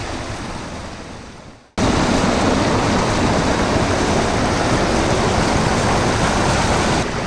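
A mountain waterfall roars in a constant, broadband rush of falling water, loud and close. It starts suddenly after a quieter, fading stretch of wind-buffeted outdoor sound.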